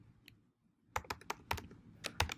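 Quiet typing on a computer keyboard: a brief pause, then a burst of quick, irregular clicking keystrokes close by, with no voices.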